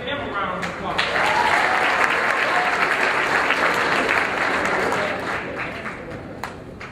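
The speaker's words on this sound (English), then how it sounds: "Next we have Panama Jackson. Let's give him a round of applause." Sustained audience applause filling a hall at a forum for Black men, steady and dense for several seconds, then thinning into scattered claps near the end; some voices are mixed into the crowd noise.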